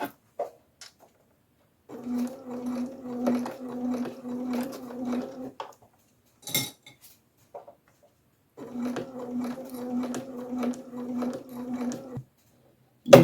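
A sewing machine stitches fabric for a Christmas stocking in two steady bursts of several seconds each, with a rapid even mechanical whir and a quiet pause between them.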